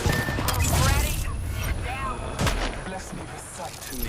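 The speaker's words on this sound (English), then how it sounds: "I'm opening fire." Gunfire in an online shooter-style video game, with sharp repeated shots and bursts over a dense game mix while a player talks throughout.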